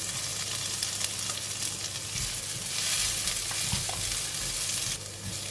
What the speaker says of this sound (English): Now we're going to fry the vegetable. If the pan is dry, just add in some oil. Put in the onions.